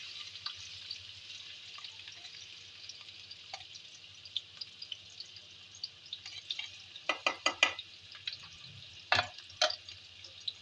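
Chopped onion fries in a pot for matar pulao, a faint steady sizzle with scattered crackles, then a cluster of louder clinks and scrapes as it is stirred.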